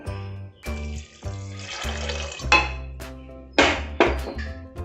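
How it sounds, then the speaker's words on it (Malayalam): Water is poured into a pressure cooker holding van payar beans for Kerala-style beetroot thoran. Metallic clinks and splashy bursts from the pot come in uneven, resonant knocks. "പയർ വേകാനുള്ള വെള്ളം ഒഴിച്ചു കൊടുക്കാം."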